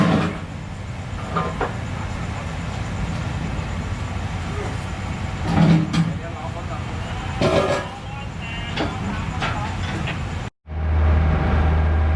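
A railway bogie crane car at a derailment rescue near a station, giving a steady rail rumble with scattered clanks and knocks, while someone talks over it.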